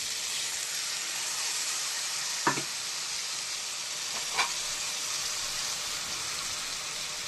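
Greens with whole chillies and mustard seeds sizzling in a pan, a steady close frying hiss throughout with two brief sharper crackles partway through, no talking.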